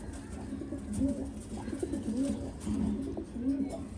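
Pigeons cooing in a loft, soft repeated low coos rising and falling every second or so over a constant background hiss, fairly faint and with no talk.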